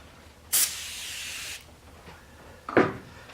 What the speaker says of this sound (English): I'm going to hit it with some window cleaner.